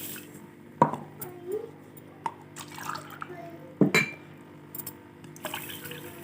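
Water is poured into a bowl of sugar to make syrup for bread gulab jamun, heard as soft, quiet splashes and clinks spread across a few seconds.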